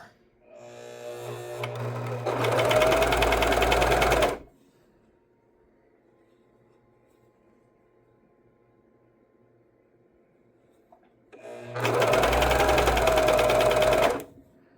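A sewing machine stitching a sleeve while 3/4 sleeves are altered into banded short sleeves with interfacing: two loud, even bursts of rapid motor-driven stitching, each a few seconds long, separated by a long quiet pause with faint handling noise.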